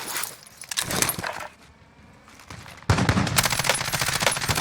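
Rapid automatic gunfire from Call of Duty Warzone, loud bursts at the start, a quieter lull, then a sustained fusillade of close shots to the end.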